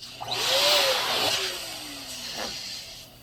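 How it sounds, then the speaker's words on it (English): A latex balloon is inflated by a motorized air pump or inflator, giving a steady loud whirring hiss of air that swells and then tapers off, with no talking. "I'm going to put a little more air in it."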